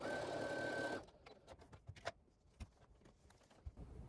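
A sewing machine stitches quilt strips together in a fast whirring run for about a second, then stops, leaving quiet handling taps and fabric rustles close by.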